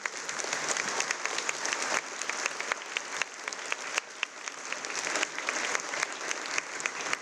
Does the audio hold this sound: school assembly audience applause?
yes